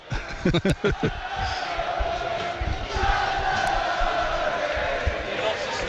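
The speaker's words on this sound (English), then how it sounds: "it is the Eastleigh fans making all the noise away to the right" Eastleigh football fans chanting and making noise at a stadium, a broad roar of crowd sound off to one side, with sharp claps or shouts early on and talk over it.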